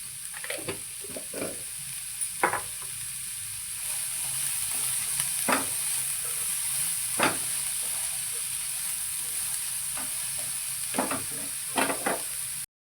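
Vegetables for corn cutlets sizzle steadily in a hot pan, with a constant hiss broken by repeated scraping stirs of a spatula, close and clear.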